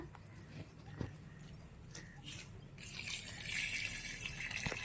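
Soft trickling and splashing water poured onto garden plants, faint and steady, growing into a gentle continuous pour partway through.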